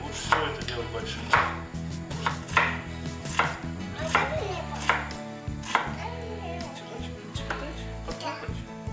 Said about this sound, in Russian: Тончайшими кусочками нарезаем такие листики.